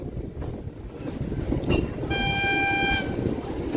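The Raptisagar Express rushes past at speed on an Indian railway line, a loud continuous roar of wheels with a sharp horn blast near the middle and a sustained, steady horn tone after it.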